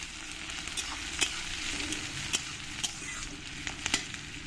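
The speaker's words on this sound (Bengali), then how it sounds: "এবার পেঁয়াজগুলোকে আমি একটু লাল লাল করে ভেজে নেবো" Chopped onions frying with whole spices in a pan, browning to a reddish colour, give a constant close sizzle broken by a few sharp pops and light stirring clicks, with no talking.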